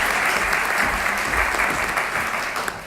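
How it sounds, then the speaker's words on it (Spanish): An audience applauds a panel speaker at a standards conference panel, steady dense clapping throughout, loud and close, with no talk over it. "Un fuerte aplauso para ella"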